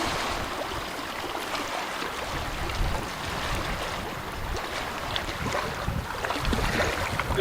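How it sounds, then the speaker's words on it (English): Wind gusts through a remote wilderness park in Woodland Caribou Provincial Park, a broad rushing hiss that swells and fades unevenly across the whole stretch, with faint water sounds beneath and no voices. "you can hear that wind"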